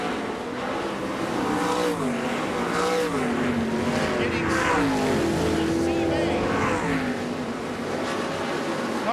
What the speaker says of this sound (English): Cars will be lining up behind the pace track as the C-main entries roll out